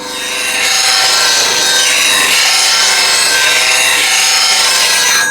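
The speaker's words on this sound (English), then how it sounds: "to get this asymmetric grind with a nice full curve on the wings, you have to move relatively fast" Woodturning gouge pressed against a bench grinder wheel on the platform rest for an asymmetric grind, a loud, continuous abrasive hiss with a steady whine that runs unbroken, with no voices.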